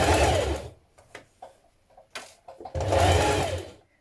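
Home sewing machine stitching a trouser dart, two fast bursts of whirring stitching, one at the start and one near the end, with quiet handling pauses between.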